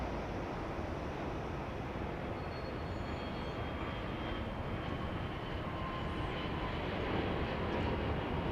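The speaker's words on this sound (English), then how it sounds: "It's Bombardier Challenger 350 arriving from" A Bombardier Challenger 350 business jet arriving from Miami at Dallas Love Field gives a steady, moderately loud broadband engine rumble that builds slightly toward the end.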